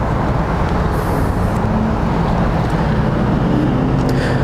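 A 2024 Audi SQ8 Prestige with a 4-liter V8 and resonator exhaust gives off a steady, loud, broadband rumble that holds unchanged throughout, with no voices.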